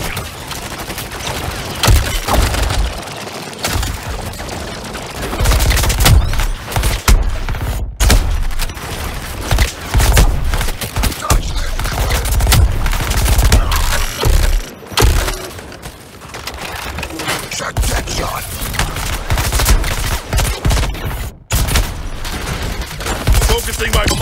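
Sustained gunfire from Suicide Squad Kill the Justice League, Deadshot in action on PS5: dense, loud bursts of shots and thuds run almost continuously, with brief drops in between, over a busy game mix.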